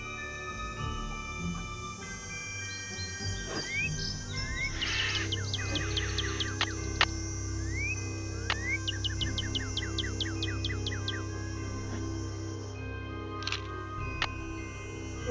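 Bird calls ring out in a Nancy Drew video game set at Moon Lake: repeated bright chirps and rising whistled tweets over a soft steady ambient bed, with no talking.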